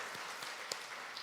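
A church congregation applauds newly installed officers during an afternoon service: a steady, faint wash of many hands clapping, heard alone and distant, with no individual claps standing out.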